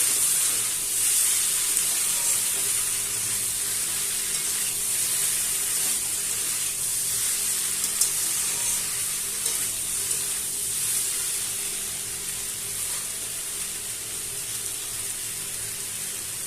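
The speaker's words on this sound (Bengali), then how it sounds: "তো হালকা করে একটু কষিয়ে নিয়েছি" A potato and tilapia fish curry sizzles steadily in a pan as it is sautéed, a loud, continuous frying hiss with faint stirring scrapes throughout.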